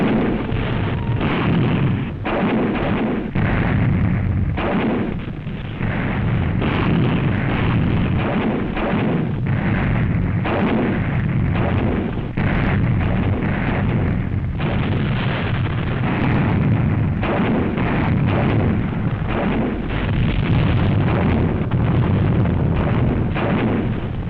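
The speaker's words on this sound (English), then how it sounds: "A typical Montgomery barrage is laid down as elbow-to-elbow Canadian tanks throw over a" A 1945 WWII barrage from Canadian tanks and artillery roars on without a break, dense overlapping booms and blasts forming a loud, continuous wall of gunfire.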